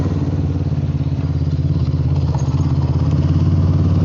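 A Suzuki Inazuma 250 motorcycle engine runs loud and close, holding a steady, dense drone throughout with no speech over it.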